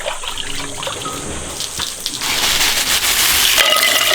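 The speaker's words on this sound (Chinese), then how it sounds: "我再用那个流水洗个" Beef tripe is rinsed under a running kitchen tap, a close, steady splashing gush of water that grows louder and fuller partway through, with no talk.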